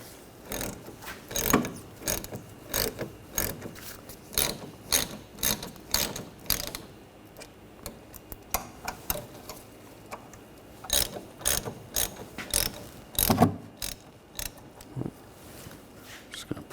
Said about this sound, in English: Using a 7mm hex socket, loosen these caliper bolts up.